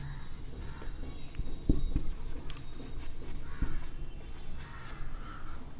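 Chalk or marker scratching on a board as numbers are written in a classroom, a steady run of close strokes and taps with light background noise.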